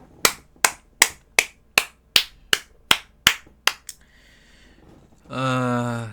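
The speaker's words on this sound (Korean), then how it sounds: "박수 한번 치시죠" Around ten evenly spaced sharp claps ring out one by one for a scholarship donation announcement, then fade into a brief quiet before a voice starts speaking.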